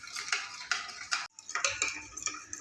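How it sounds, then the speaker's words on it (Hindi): Spoon clinking and scraping against a bowl as sugar is stirred into a fruit chaat mixture, a quick run of light metallic taps with a brief pause, close and fairly quiet. "अब इसको हम अच्छी तरह मिक्स करेंगे।"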